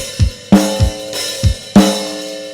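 A drum pattern with deep triple kick-drum thumps in quick groups and brighter, ringing snare and hi-hat hits landing between them, steady and close with no voices.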